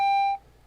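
A voicemail system's single steady electronic beep sounds before message recording begins, a clear bright tone lasting about a third of a second and then cutting off to near silence.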